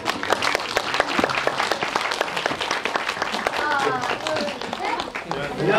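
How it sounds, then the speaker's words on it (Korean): Warm applause from an audience at a Korean film premiere-day talk event with the cast of Sogongnyeo (Microhabitat), dense clapping throughout with some voices and cheers mixed in. "다시 한번 뜨거운 박수"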